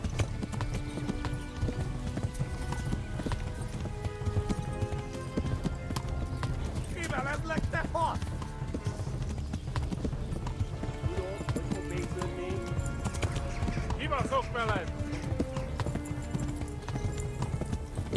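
A horse gallops in Kingdom Come: Deliverance with a constant rapid clip-clop of hooves and a whinny partway through. Someone talks over it almost throughout.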